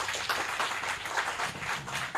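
An audience claps steadily together, a dense, even wash of applause from a seated crowd at a lecture gathering, sustained throughout without talk.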